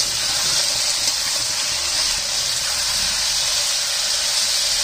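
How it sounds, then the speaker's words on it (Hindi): Potatoes and tomatoes frying with salt in a pan give a steady, dense hiss that holds evenly throughout, loud and close with no talking. "इसे हम थोड़ी देर फ्राई करेंगे।"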